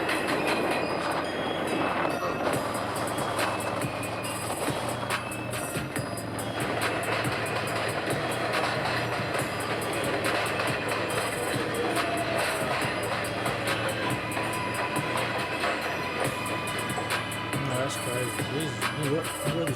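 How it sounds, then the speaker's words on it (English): A Manhattan-bound local 7 subway train in New York rumbles past nearby for about twenty seconds, with steady wheel clatter, metallic squeals and rhythmic clicking along the rails. "There is Manhattan bound local 7 train"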